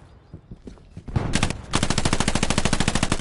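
In the Hell Let Loose video game, a machine gunner at a window fires a loud, close, rapid sustained burst after a few scattered shots at the start.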